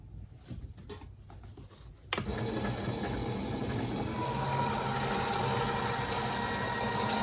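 A fabric cutting machine rolls its rollers over a cutting mat, slicing through six layers of fabric at once. The sound begins with quiet clicks and handling, then jumps to a loud, steady mechanical whir and rumble that runs to the end.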